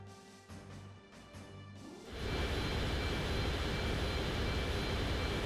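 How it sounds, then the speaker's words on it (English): Loud jet aircraft engine in the video game Front Mission 3, a slow-moving transport, roaring in after about two seconds as a steady, dense broadband rush that fills the rest of the clip following quieter game ambience. "It's an incredibly loud jet."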